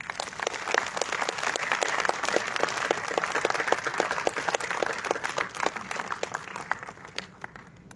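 An audience applauds steadily to welcome two guests onto the stage at a master class session, a sustained dense patter of many hands clapping that tapers off at the end.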